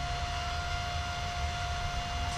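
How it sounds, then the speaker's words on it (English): A steady jet-engine-like whine and roar from a stationary Romanian long-distance train, a constant droning tone over broadband rushing noise, unchanging and continuous with no talk. "Note the strange jet engine sound when the train is not moving."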